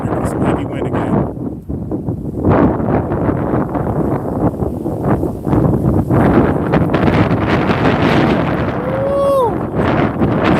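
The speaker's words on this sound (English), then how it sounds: "There goes some heavy wind again." Heavy wind buffets a microphone outdoors at a catfishing spot, a loud continuous roar with gusty surges through most of the stretch, a brief lull near the start.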